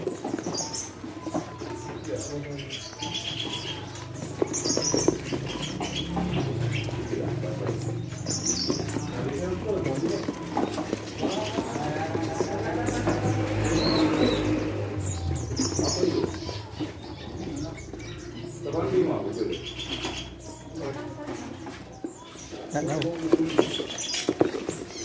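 Prinia songbirds chirp in repeated short, high bursts across a busy bird-market setting, mixed with other birds' calls and rustling patter, with people talking in the background throughout.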